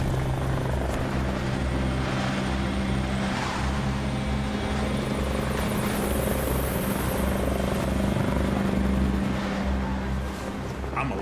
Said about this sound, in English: you could hear this helicopter closer and closer as if it's just right over our head